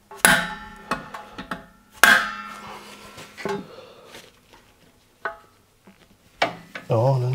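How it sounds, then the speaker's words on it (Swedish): A 14 mm open-end wrench clanks onto the brake hose fitting of a Volvo 945, followed by a few sharp metallic knocks and scrapes as it strains to break the fitting loose, close and fairly loud with quiet gaps between. "sätter på 14 öppen nyckeln här för att se"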